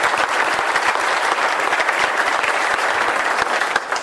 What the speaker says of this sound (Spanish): Y pido un aplauso para Juanjo.